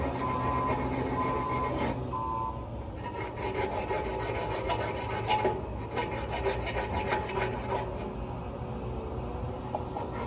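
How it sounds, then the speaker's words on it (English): Abrasive sanding of copper pipe on an HVAC job makes a continuous, close, steady rasping scrape that carries on without pause, loud and alone. "Sure you sand it up real good."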